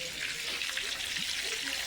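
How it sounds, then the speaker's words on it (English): Water is poured into a hot pan of cooking food, making a broad, steady hiss and sizzle that stays fairly even and close the whole time. "I'm going to pour some water on this."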